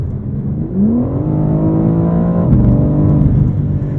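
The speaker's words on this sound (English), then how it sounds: "That's a unique exhaust note, especially on the upshift." A BMW M4 CSL engine revs hard, its exhaust note rising in pitch, then dips and snarls briefly on the upshift before pulling up again, loud and close.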